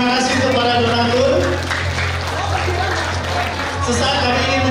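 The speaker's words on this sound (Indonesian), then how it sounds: "Kita berikan sekali lagi apresiasi tepuk tangan yang mulia sekali." Audience at a school reunion event applauding donors, a dense steady wash of clapping and crowd murmur throughout, with a low hum underneath.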